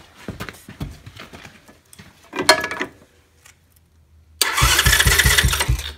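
A Chinese-made ATV engine, after a starter fix, cranks with rapid chugging pulses, pauses, then fires up into a loud, rough, steady idle close by.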